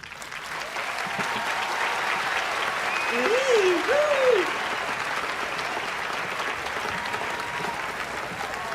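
A crowd gives sustained, dense applause after a new Christmas song at a country Christmas homecoming, with a short vocal whoop rising above the clapping midway.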